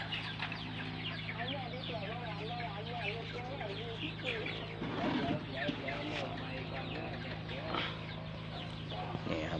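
Free-range village chickens cluck in a continuous, overlapping chorus close by, with wavering calls from several birds and someone speaking over them.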